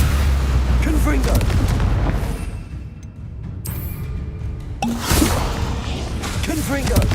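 Confringo fire spell explosions in the Hogwarts Legacy video game, loud booming blasts with crackling fire mixed into dense game sound and voices, a brief lull in the middle before the blasts return.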